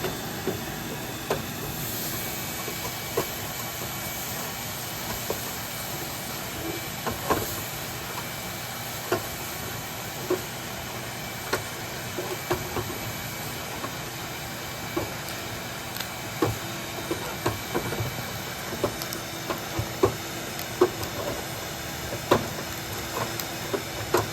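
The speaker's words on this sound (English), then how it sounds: "You can hear all the debris coming down" Steady rushing hiss with scattered small ticks and rattles of gutter debris knocking through a vacuum hose, continuous throughout with no voices.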